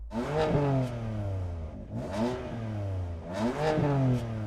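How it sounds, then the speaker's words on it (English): A BMW M4's engine revs hard three times in quick succession, each blip rising sharply in pitch and falling back to a steady idle, loud and close with strong intake growl and no talking. "give the M4 some revs"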